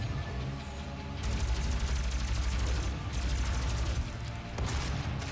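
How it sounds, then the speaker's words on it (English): Plasma rifle firing in Doom 2016, a dense rapid stream of loud energy shots running almost continuously with brief gaps, layered over game noise and explosions. "we're just going to use the plasma rifle here"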